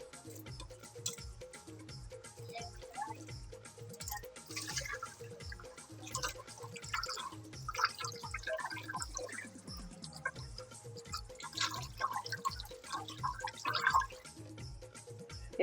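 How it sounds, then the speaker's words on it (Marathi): Fish are rinsed clean under water, giving faint, close splashing and rhythmic sloshing with drips throughout. "त्यानं चांगले स्वच्छ धुवून घेते"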